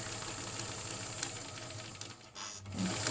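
A sewing machine stitches a small curved seam on a fabric mask, with a steady close mechanical whir and rapid needle rhythm, briefly pausing near the end before starting again.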